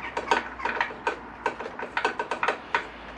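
Bolts being undone on a Honda VFR800 motorcycle during teardown for a valve clearance inspection, heard as quick clicking ratchet strokes in irregular bursts, close and fairly quiet.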